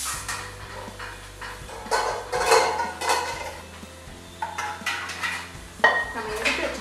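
A cooking pot of vegetables for a South Indian lunch is lifted off the stove, giving several metallic clanks and scrapes of cookware in irregular bursts at close range, with background kitchen noise.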